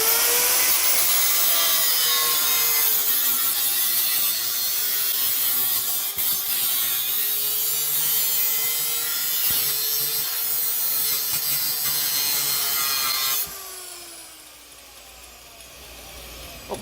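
A cutting tool steadily grinding or sawing off the excess ends of metal hose clips clamped on a custom exhaust for a Kawasaki KZ650 cafe racer, a continuous loud rasping drone that stops abruptly near the end.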